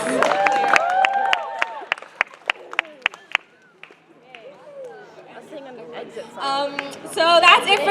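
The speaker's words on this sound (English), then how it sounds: "How about applause for all these helpers?" A coffee house audience claps for the event's helpers, giving scattered, distinct claps over lively crowd chatter and voices, followed by louder talk and cheering near the end.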